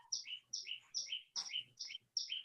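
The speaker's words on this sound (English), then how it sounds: "And the birds here, bro. You hear that?" Birds chirp repeatedly outdoors in a steady run of bright, close tweeting calls, with no speech over them.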